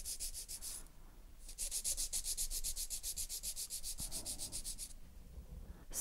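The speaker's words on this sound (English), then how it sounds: "file the top of the nail" A nail file rubbing across the top of an acrylic-gel hybrid nail in long strokes, a bright raspy scratching in quick rhythmic bursts, close up, with a brief pause before the filing resumes.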